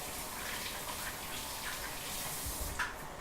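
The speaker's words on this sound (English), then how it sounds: "Let me wash my hands." Water runs steadily from a kitchen tap while hands are washed beneath it, a continuous broadband splash with faint shifts as the hands move through the stream, close and alone without talk.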